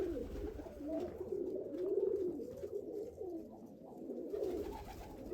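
Several domestic pigeons kept by a pigeon fancier coo continuously nearby, their low throaty calls overlapping in a steady, rolling chorus with no talking.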